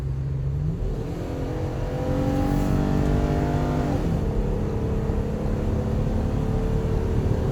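A 2017 Ford Transit T350 XL wheelchair passenger van cruises down a highway, its engine droning steadily and rising slightly in pitch as it gains speed, under continuous road and wind noise.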